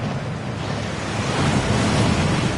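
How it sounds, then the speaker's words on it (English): Heavy, steady rushing water from a waterfall inside a Gringotts vault in Hogwarts Legacy, a dense continuous roar that swells a little louder toward the end, with no voices. "That waterfall washes away all enchantments."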